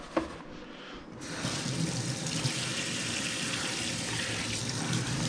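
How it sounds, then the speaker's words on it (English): Tap water runs steadily into a sink while a bare hand is rinsed off during home cooking of chicken parmesan, a constant close splashing rush that starts with a brief spurt and keeps flowing. "So let's rinse this hand off"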